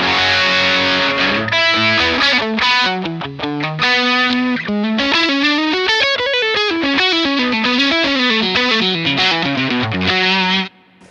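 An electric guitar plays a fast run of notes through heavy distortion from an Ibanez SD9 distortion pedal, loud and sustained, ending abruptly.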